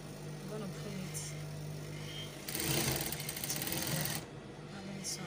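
A sewing machine stitches fabric for a kaftan dress sleeve hem, a short burst of fast mechanical whirring rising over a quiet room hum for about two seconds before stopping.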